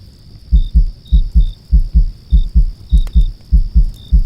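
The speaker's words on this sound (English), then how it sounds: "the closer you got, the louder your heartbeat became" A steady heartbeat thumps in a witch roleplay, with loud, close, regular double beats about twice per second over a faint high tone and light chirps.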